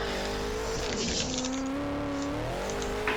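A four-door Nissan R32 accelerates in fourth gear, its engine roaring loud and close with a rising pitch and some tire noise underneath, without speech.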